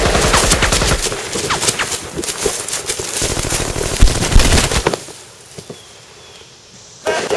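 Bursts of close, loud automatic gunfire in a suppressive volley, rapid repeated shots for about five seconds, then a near-quiet gap before another burst starts.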